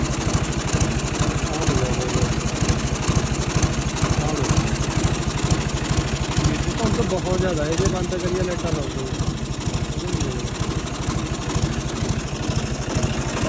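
A tractor engine runs steadily at night while sowing wheat in a field of paddy straw, a close, constant low throbbing drone with a fast even pulse throughout, while someone talks over it.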